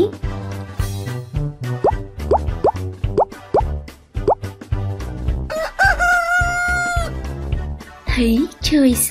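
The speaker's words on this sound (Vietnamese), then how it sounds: "Thấy trời sáng, gà gáy ó o, đua nhau gà gáy." Rooster crowing in a children's rhyme, several bright rising cries in quick succession, then a long sustained crow and a final short call, set over light music with close, clear tone.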